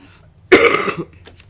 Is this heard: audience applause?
no